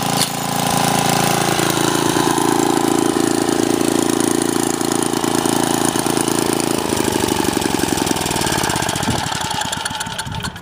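A Troy-bilt rototiller engine running at full speed, about 3,300 RPM, roars loud and steady up close, then shifts to a lower, choppier putter near the end.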